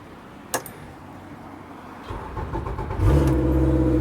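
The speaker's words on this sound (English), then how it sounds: "Just started the motor there." An outboard motor on a Princecraft 24 ft pontoon boat starts up with a brief crank, then settles into a loud, steady low idle rumble, with no talking.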